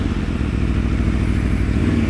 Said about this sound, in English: You even get it down to 1 on the quick shifter.